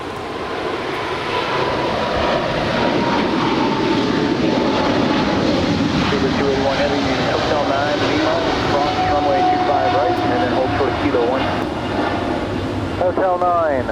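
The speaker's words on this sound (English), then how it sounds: "that is British Airways Speedbird, that 777-300ER coming in from London" A British Airways Boeing 777-300ER jet comes in to land at Los Angeles LAX airport, its loud sustained engine roar filling the whole stretch, with a rising whine near the end.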